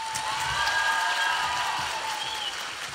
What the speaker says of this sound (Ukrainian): Давайте ще раз оплески.